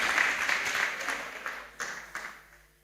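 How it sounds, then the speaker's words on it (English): A church assembly audience at a public health nursing service applauds faintly from a distance, the patter of claps gradually thinning and fading out. "Give them a round of applause"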